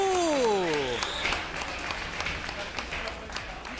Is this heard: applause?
yes